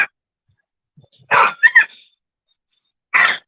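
Dog barking indoors, a couple of sharp close barks with a short whine between them, separated by silence.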